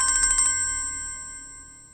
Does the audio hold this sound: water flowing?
no